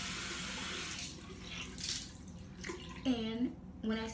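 Water runs from a tap to dampen a makeup brush, a continuous close splashing and trickle with the flow shifting as the brush is wetted.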